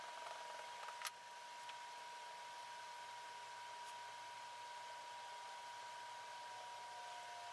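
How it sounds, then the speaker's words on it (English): An electric fan runs steadily in a hot sand-casting workshop, giving a constant, even broadband whoosh with a faint tonal hum, plus one brief click near the start and no talking. "I had to run the fan today."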